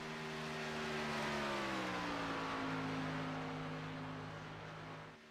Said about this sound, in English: The only car out on the track for the moment is the 53 of Dave Hunt.